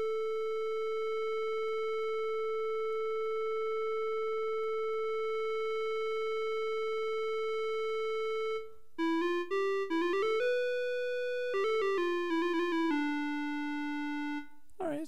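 Synthesized clarinet tone built by subtractive synthesis in AAS Tassman with added filter resonance: a long held note, then a short run of changing pitches, clean and steady with no voice over it.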